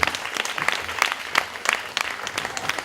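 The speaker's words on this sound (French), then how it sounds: "Sous vos applaudissements, merci." Audience applause at an evening event at the BBox, a steady dense patter of many hands clapping close by, with no voices over it.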